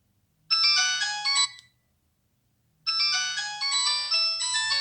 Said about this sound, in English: Okay, that is the Nokia tone